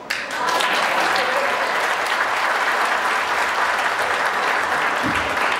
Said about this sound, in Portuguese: E a salva de palmas?